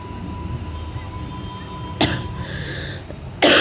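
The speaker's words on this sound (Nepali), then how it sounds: "कस्तो खोकी लाग्यो।" A person coughs during a journey after getting lost on the road: one sharp cough near the two-second mark and another at the end, both close and loud over a steady background hum.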